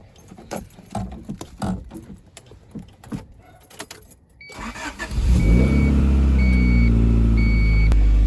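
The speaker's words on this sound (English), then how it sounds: "as you can see, the car is running and I'm able to get it into gears" Keys jangle and rattle inside a 1990-1993 Honda Accord CB7 before the engine cranks and starts, settling into a loud, steady run with a repeating electronic chime beeping over it.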